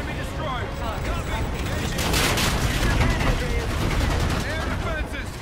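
Sustained heavy gunfire aimed at an enemy destroyer during a space battle in Call of Duty Infinite Warfare, a dense roaring barrage that swells in the middle and fades, mixed with battle noise.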